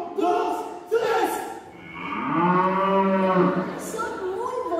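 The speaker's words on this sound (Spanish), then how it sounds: "Empujando vacas." Cows being pushed, lowing in several long, drawn-out moos, loud and close, with brief voices in between.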